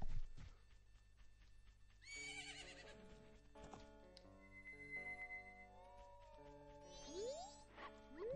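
Epona, a horse in a video game at a ranch, gives a loud whinny, then hoofbeats, chimes and sustained musical tones follow, and a second rising neigh comes near the end.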